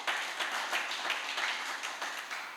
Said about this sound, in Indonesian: Beri tepuk tangan buat Yesus.